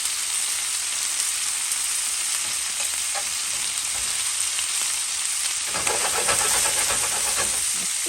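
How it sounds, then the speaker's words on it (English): Hot links and bacon sizzle in a pan, a steady, loud frying hiss with occasional pops and crackles that swell toward the end, with no talking. "we're just gonna let this cook, you guys, until the bacon gets cooked on that side"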